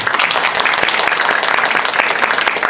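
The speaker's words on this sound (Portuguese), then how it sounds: "Salva de palmas," A room full of listeners at a medical talk on rare respiratory diseases breaks into loud, dense applause, steady and close for the whole stretch with no pause.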